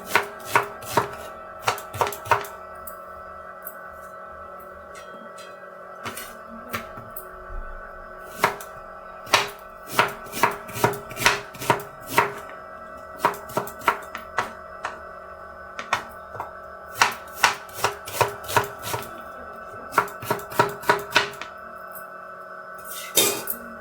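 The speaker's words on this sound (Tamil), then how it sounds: "இதே மாதிரி இருக்கிற வெங்காயத்தை எல்லாத்தையும் கட் பண்ணி எடுத்துக்கலாம்" A knife chops onions on a board while tomato rice is being prepared: a string of crisp, close knocks in irregular bursts with short pauses, loud and clear with no talking.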